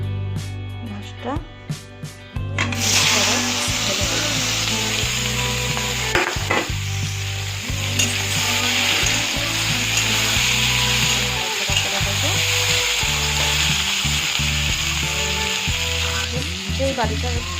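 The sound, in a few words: katla fish frying in mustard oil with black cumin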